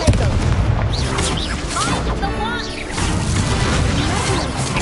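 A Confringo blasting spell erupts in the Hogwarts Legacy video game, loud booming explosions and crashes layered over dense combat noise and shouted voices throughout.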